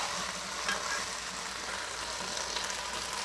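Vegetables with black pepper sautéing in a pan for chow mein, giving a steady, soft sizzle with faint stirring scrapes throughout, no voices.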